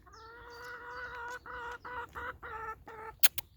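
Hens clucking and murmuring softly nearby in a run of short, repeated calls, ending with a couple of sharper, louder squawks.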